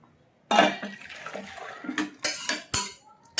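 Cooked biuli dal is poured out of a pot, with sharp metallic clinks and scrapes of a utensil against the pot and soft wet splashes, close and fairly quiet.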